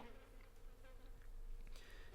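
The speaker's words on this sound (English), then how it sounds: "The only other sounds are the buzzing of the flies and the bleeping of the arcade cabinets." Flies buzzing steadily inside an arcade, a continuous droning hum that stays close and even throughout, with no voices over it.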